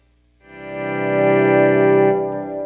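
An electric guitar chord swells in gradually through a volume pedal placed before reverb and delay, rising from silence to a sustained, shimmering tone that eases slightly at the end.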